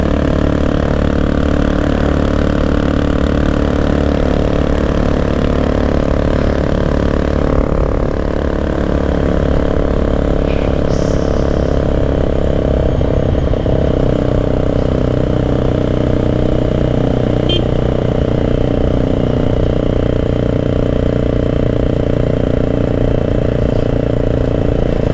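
A vehicle engine runs steadily in gear, a loud continuous low drone with a slight shift in pitch partway through, with no voices.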